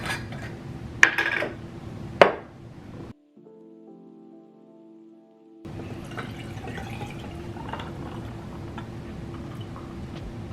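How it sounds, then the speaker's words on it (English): Coffee pouring over ice in a glass at home, a steady close splashing trickle with ice clinks, broken by a short quieter pause before the pour resumes. "we're gonna add 6 ounces of coffee"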